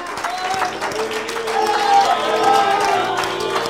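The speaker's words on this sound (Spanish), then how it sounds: "Can you applaud the Lord Jesus Christ?" A church congregation claps and cheers for the Lord Jesus Christ during a Sunday service, a steady round of applause with crowd voices and sustained music tones running underneath.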